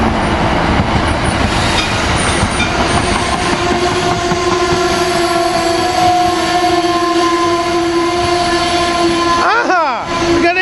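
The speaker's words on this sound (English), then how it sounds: "Here we got Keystone Train 655 coming in," A Keystone passenger train with cab car leading rolls slowly into Cornwells station, a loud continuous rumble with steady tonal hum and a rising squeal near the end as it brakes, with someone talking faintly.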